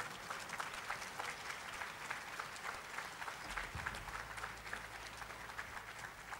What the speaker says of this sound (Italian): facciamogli un bel applauso